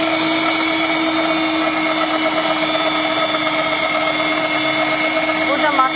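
A machine for making içli köfte runs steadily for several seconds with a continuous motor hum and whine, loud and close, with background voices and kitchen noise underneath.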